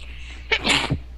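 A single close, sharp sneeze bursts out in a quiet room, short and explosive.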